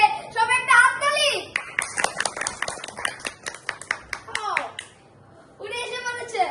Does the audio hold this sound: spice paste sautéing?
no